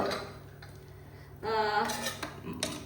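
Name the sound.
stirring coarse ground masala into tindora in a pot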